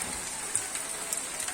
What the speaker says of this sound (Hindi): बरसात बहुत भयंकर हो रही है